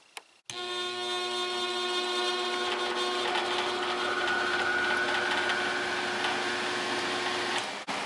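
A large furnace blower fan spins up after a sharp start click, then a steady whirring motor hum with a rising whine holds for several seconds before cutting off abruptly.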